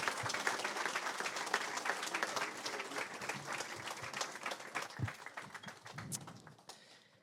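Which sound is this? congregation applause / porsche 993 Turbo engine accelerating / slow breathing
congregation applause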